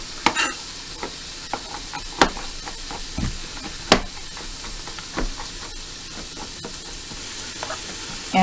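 Ham hocks browning in a pressure cooker, with a continuous sizzle and hiss broken by irregular sharp pops and crackles, loud and near.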